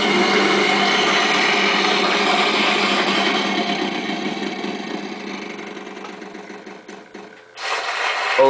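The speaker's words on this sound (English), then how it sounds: "I'm spinning the wheel." A prize wheel spins in a Wheel of Fortune video game, a rapid steady clicking whir that slowly decelerates over several seconds before stopping, followed by a brief electronic jingle.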